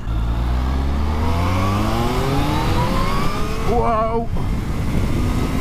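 A Kawasaki Z-H2 motorcycle accelerating hard through the gears, engine pitch climbing steadily and loudly up close before a brief shift, with a short excited exclamation from a rider partway through.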